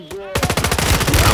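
Rapid automatic gunfire from the video game Call of Duty, a loud sustained burst of evenly spaced shots following a brief quieter moment.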